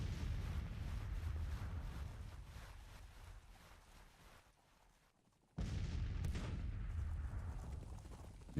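Artillery booms and rumbling cannon fire on a Civil War battlefield in the strategy game Grand Tactician: The Civil War, dense low thunder that dips into near silence midway, then a sharp heavy blast resumes the continuous loud barrage.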